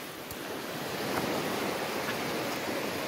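River flowing, a steady broadband rush of moving water heard alone, fairly soft and even, swelling slightly after the first second.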